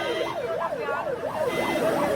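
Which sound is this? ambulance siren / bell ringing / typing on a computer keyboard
ambulance siren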